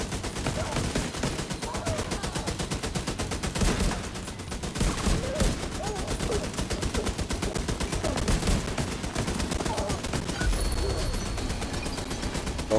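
A deployed turret in The Division 2 fires a long, fast, even stream of rounds, loud and close for over twelve seconds with only brief dips, and a voice can be heard talking faintly beneath the shooting.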